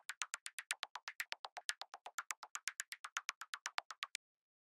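A synthesized clicky drum made from white noise through a bandpass filter, for a melodic techno track: a steady run of short, bright, crisp ticks in even sixteenth notes, playing alone for about four seconds.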